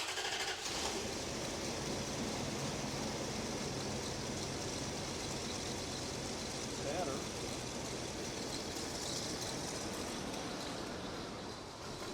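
A 1989 Dodge LE150 engine, long left sitting, runs steadily with a misfire, a continuous rough drone throughout, loud and close with no break.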